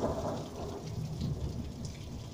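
A steady wash of heavy rain pours down with low rumbling thunder rolling underneath during an April thunderstorm, continuous and fairly faint with no voices.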